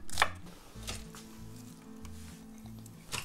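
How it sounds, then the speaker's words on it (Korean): A knife thinly slices onion on a cutting board with a few crisp chops spaced unevenly, over a soft low hum and light handling noises. "양파는 얇게 채 썰어 주겠습니다"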